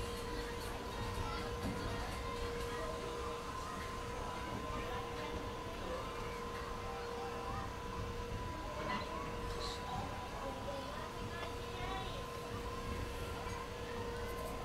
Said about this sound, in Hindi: WDP4 इज्जत नगर शेड का साथ, इसकी भी हमिंग साउंड जो होती है वो बहुत अलग होती है।